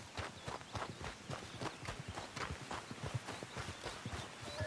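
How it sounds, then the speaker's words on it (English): Horse hooves in Red Dead Redemption 2, a steady rhythmic clip-clop of a horse approaching at a trot, fairly faint and distant with no voices over it. "I think the horse is coming, I think."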